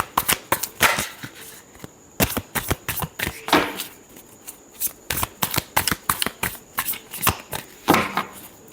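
Tarot cards being shuffled by hand in repeated quick riffling bursts, crisp and close, separated by short pauses, with no voices.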